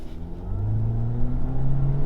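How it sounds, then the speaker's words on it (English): A 2019 Mitsubishi Eclipse Cross SEL revs hard against the brakes for a launch, its engine note rising in pitch and loudness as it builds a deep, close rumble with no voices. "So we'll do a little brake torque launch."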